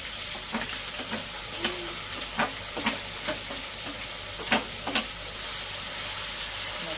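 Onions frying in hot oil as the base for a fish curry: a steady, close hiss of sizzling oil with occasional light crackles and a few spoon scrapes.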